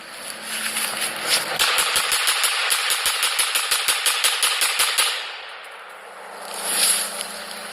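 An FN Five-seveN pistol converted to fire full auto lets off a long rapid burst of sharp, evenly spaced shots at close range. The burst stops, and a second, briefer swell of noise follows.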